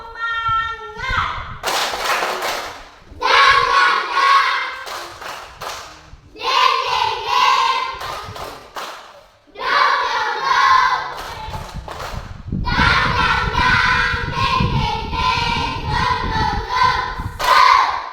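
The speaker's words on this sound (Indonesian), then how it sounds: "Tepuk semangat." A group of children performing a rhythmic Indonesian spirit clap in several patterned bursts of sharp hand claps, separated by chanted speech, close and lively.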